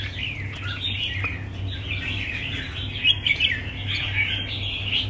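A caged songbird, kept for racing-style song contests, chirps and tweets continuously in quick high trills, close and clear over faint background hum.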